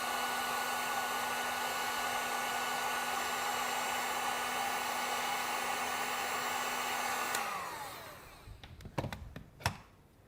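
A heat gun blows a steady, loud stream of hot air over heat-shrink tubing for an off-grid power system, running alone for about seven seconds before it cuts off and a few sharp knocks and handling taps follow.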